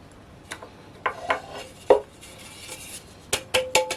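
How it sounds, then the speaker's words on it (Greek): Flour is dusted into a greased cake pan, heard as a series of light metallic taps and knocks on the pan, spaced irregularly and close by, with soft rubbing between the taps. "Θα ρίξουμε αλεύρι."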